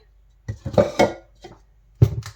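A spoon scrapes and clinks against a bowl while sugar is stirred into the dry ingredients for banana muffins, giving a few short, close taps and scrapes with quiet gaps between them.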